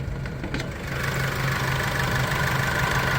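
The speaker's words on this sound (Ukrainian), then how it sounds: "Зараз покажемо вам під капотом, як працює двигун" A crossover car's engine idles steadily up close under an open hood, a smooth continuous hum with a low drone, no voices.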